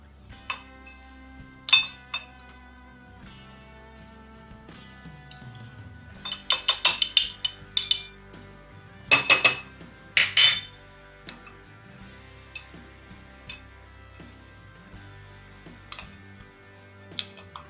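A spoon stirring Nido powdered milk into milk in a glass or bowl, with scattered light clinks and a cluster of quicker scraping taps against the container's sides, no voices.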